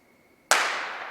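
A starting pistol fires once with a sharp, loud crack to start an indoor track race at a boys' meet. A hall echo rings and decays over the following second.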